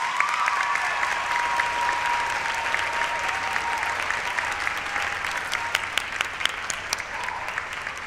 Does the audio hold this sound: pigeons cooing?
no